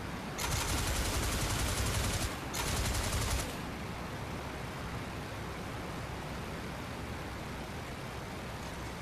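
Aircraft machine guns firing in IL-2 Great Battles during a WW1 versus WW2 dogfight: two long, loud rattling bursts, then a steady engine drone.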